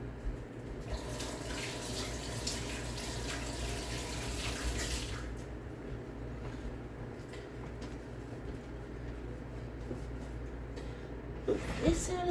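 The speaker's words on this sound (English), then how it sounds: "let me wash my hands again." Hands are washed under a running tap, a steady, faint rush of water that continues evenly and ends with a few brief splashes.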